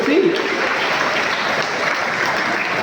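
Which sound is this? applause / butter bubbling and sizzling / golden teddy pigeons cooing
applause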